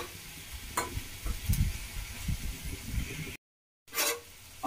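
Chopped tomatoes go into karmatta bhaji frying in a pan, giving a soft steady sizzle with scraping stirs and a few clinks, close and moderately quiet, cut by a brief gap of silence near the end.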